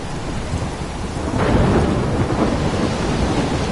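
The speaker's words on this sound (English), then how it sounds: "I'm trapped in a storm?" A thunderstorm with heavy rain in the video game Life is Strange: a dense, steady downpour roars throughout while a deep roll of thunder swells midway, loud and enveloping.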